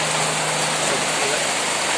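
Steady rain pouring down, a dense, even hiss of water that fills the whole clip without a break.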